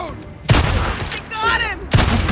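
Loud gunfire bursts from the video game Days Gone at a marauder camp, several heavy shots with shouting voices in between.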